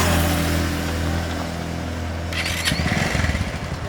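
A Bajaj Pulsar motorcycle engine idles close by with a steady low rumble, then gives a short rough burst of revving near the end.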